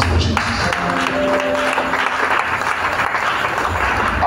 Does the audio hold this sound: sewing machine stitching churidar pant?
no